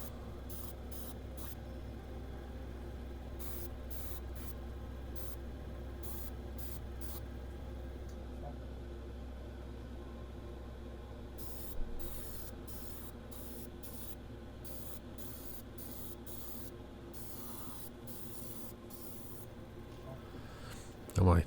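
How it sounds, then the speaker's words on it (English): An airbrush sprays paint onto the edges of a perspex panel in short repeated hissing bursts, soft and close, separated by brief pauses, with a person speaking quietly in between. "So I'm spraying all edges."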